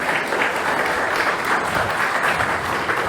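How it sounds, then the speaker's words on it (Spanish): An audience at a museum presentation claps in a full, steady burst of applause that holds at a loud, even level throughout. "Quisiera extender el aplauso a Alejandra Dávila"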